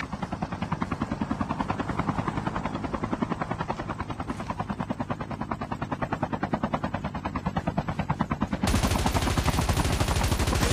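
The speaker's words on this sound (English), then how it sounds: "Incoming helicopter!" An in-game helicopter in Call of Duty Mobile battle royale beats with a steady, rapid rotor chop, loud and close, and grows heavier and fuller near the end.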